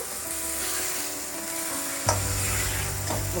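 Spice paste fries slowly without water for a meat curry: a continuous steady hiss, then one sharp scrape or knock of the spoon, after which a low hum runs beneath the sizzle.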